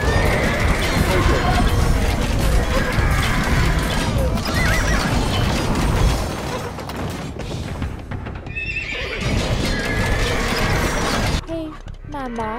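Horses neigh and whinny in Age of Empires II: Definitive Edition, loud repeated calls over game sound effects and clip-clop hooves, with clicking mechanical noises and a brief drop in sound mid-way.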